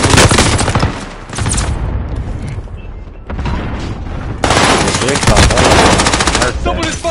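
Rapid machine gun bursts rattle loudly and close in a video game firefight, with sustained fire, a short lull, then another long heavy burst, and faint voices underneath.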